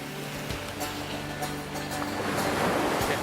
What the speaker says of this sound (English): If you time it right, you can catch and surf the waves in.